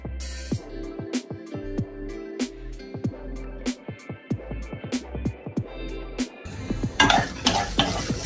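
Garlic and pepper frying in a pan for idli podi, with a soft sizzle beneath repeated sharp clinks and scrapes of a spoon stirring against the metal pan, ending in a louder burst of sizzling.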